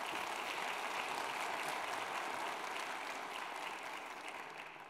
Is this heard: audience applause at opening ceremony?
yes